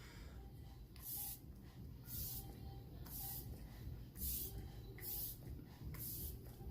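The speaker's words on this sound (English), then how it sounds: "prep my skin with the Marc Jacobs Recover Setting Spray" Repeated short bursts of Marc Jacobs setting spray misting, about six or seven quick pumps in an irregular rhythm, close and fairly loud over a low background rumble.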